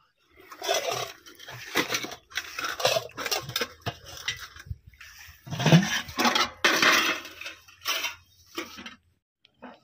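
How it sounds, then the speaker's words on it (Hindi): Clattering of metal dishes and utensils being washed outdoors in water with long grass, with repeated clinks and scrapes and splashing water in uneven bursts, close by. "हम लोग बर्तन लेकर के आ गए और चलिए अभी फटाफट धोते हैं"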